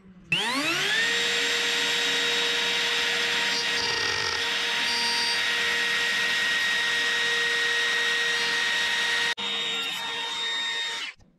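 A wood router with a fitted bit cuts the outer curve of a wooden chain piece, spinning up to a loud steady high whine that holds for several seconds, dips briefly, then runs on before stopping; close and alone.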